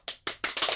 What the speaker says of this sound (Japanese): すいませんね、無理やり拍手させちゃって。